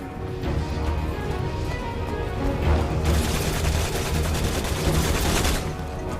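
Gunfire in the video game Resident Evil 6 on PS3, bursts of shots with dense crashing noise running steadily throughout, heaviest after the midpoint, with no talking.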